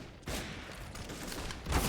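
Gunfire from a wall bang on the Inferno map in Counter-Strike, a quick burst of several shots rattling at moderate distance, with no talk over it.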